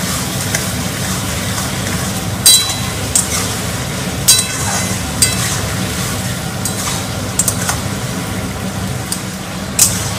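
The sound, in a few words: stirring chilli chicken in a pan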